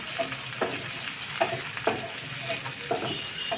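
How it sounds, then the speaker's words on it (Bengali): Prawns frying with onions in hot oil for a prawn and okra dish, stirred in a pan with regular scraping strokes over a steady sizzle. "চিংড়ি মাছগুলো দিয়ে দেব, নাড়াচাড়া করতে থাকবো"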